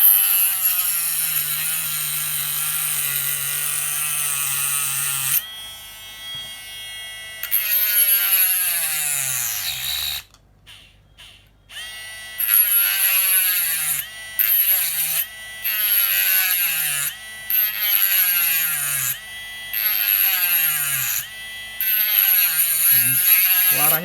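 A rotary grinding tool cuts open the casing of an Anker 65W charger. There is a long steady whine, then a pause, then many short, close bursts that rise and fall as the disc bites the hard plastic.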